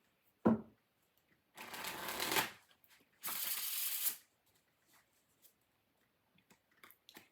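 A Revelation Tarot deck is shuffled nearby in two short riffling bursts, each about a second long, separated by quiet moments and a few faint taps and handling clicks.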